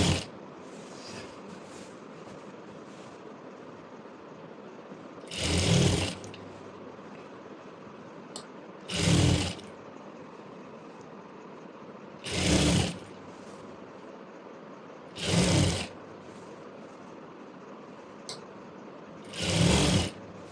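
A sewing machine stitching saree fabric runs in five short, loud bursts of rapid mechanical whirring, each about a second long and separated by quiet pauses with faint handling clicks.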